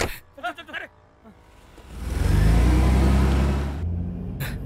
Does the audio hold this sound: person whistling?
no